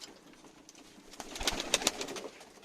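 Pigeons in a backyard coop coo softly, and a few sharp flutters and wing claps rise briefly near the end over a quiet background.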